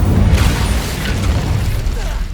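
An Incendio fire spell cast in Hogwarts Legacy gives a loud, dense whooshing burst with low rumble and crackle, carried steadily over a couple of seconds.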